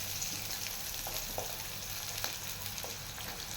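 Garlic and small onions sautéing in a pan, a continuous close sizzle and crackle with occasional faint scrapes of stirring.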